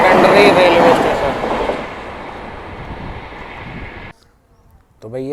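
A late-running passenger train from Hatia, Ranchi, bound for Anand Vihar, rumbles and clatters loudly and close by at the station, fading before cutting to quiet, then a voice begins.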